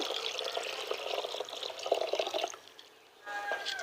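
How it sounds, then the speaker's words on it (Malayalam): Liquid slurry pours steadily into two litres of water with a bubbling, splashing wash, pausing briefly near the end before resuming; no talking. "ഈ രണ്ട് ലിറ്റർ വെള്ളത്തിലേക്ക് നമുക്കിത് ഒഴിച്ചു കൊടുക്കാം"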